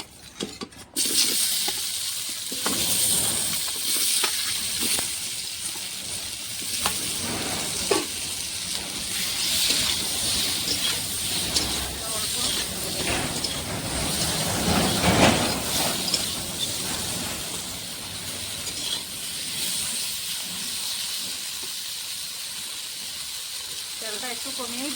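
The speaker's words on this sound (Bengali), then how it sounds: "এবার পোড়লটাকে ভেজে নেব।" Pointed gourd (parwal) frying in hot oil in a pan gives a continuous hiss and sizzle with scattered crackles, moderately loud, while people talk intermittently nearby.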